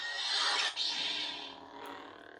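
A lightsaber's phaser ignition effect plays as a bright, hissing crackle that swells quickly, then settles into a fainter sizzling hum over about two seconds.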